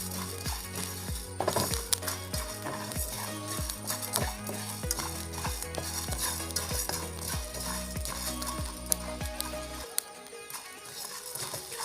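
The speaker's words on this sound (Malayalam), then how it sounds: "കുറച്ചുകൂടി ഇങ്ങനെ പൊട്ടാനുണ്ട്." Rice grains pop and crackle as they dry-roast in a pan, with rhythmic stirring scrapes repeating close up for about ten seconds before the sound drops away near the end.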